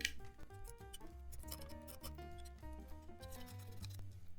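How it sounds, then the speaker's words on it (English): Close, rapid snipping of scissors trimming paper, set against soft background music. "I'm going to take my scissors, okay, and I'm going to trim."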